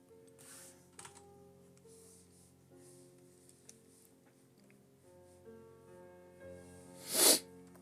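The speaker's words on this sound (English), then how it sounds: "Oh, sniffles." A single sharp sniff near the end, loud and close, after quiet tapping and faint clicks over a low steady hum.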